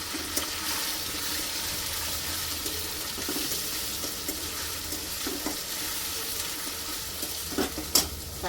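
Chopped onions sizzle and fry in a pan for pav bhaji, with a steady frying hiss and occasional stirring scrapes throughout, a couple of sharper clinks near the end.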